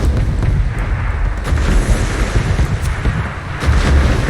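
Cannon fire against pirates in a video game: dull, muffled booms rising out of a heavy, steady rumble, loud and continuous with no talking.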